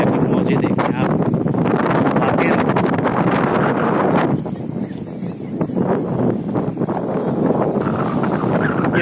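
Strong wind buffets the microphone beside a wavy river in Majunga, Africa, a loud, steady roar with rushing water underneath and brief dips in intensity; no voices are heard.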